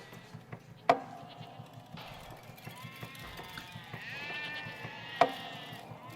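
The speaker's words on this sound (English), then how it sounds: "Okay, a lot of sheep." Sheep bleat repeatedly at a moderate distance in the intro of a track from an album, several overlapping wavering calls, with two sharp knocks standing out.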